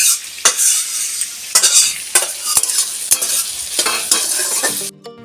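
Leafy greens (shak) with spices stir-fried in a pan: a steady hot sizzle broken by repeated scraping stirs of a spatula, close and loud, with no talking.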